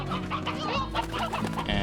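Hens clucking in the video game Slime Rancher, a quick run of close, busy clucks and squawks layered over steady background game music, with no talk.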